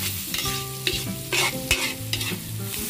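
Ground pork sizzles and crackles loudly in a hot pan, with repeated stirring scrapes and clatters breaking through the steady frying hiss at close range.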